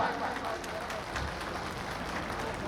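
A crowd claps in sustained, dense applause throughout, loud and even, with no pauses, at a felicitation ceremony for national Scheduled Castes commission members.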